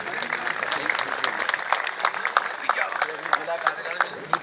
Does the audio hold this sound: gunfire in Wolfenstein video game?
no